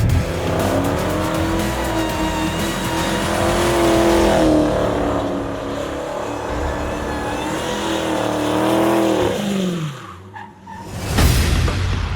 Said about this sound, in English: Then you can do a burnout.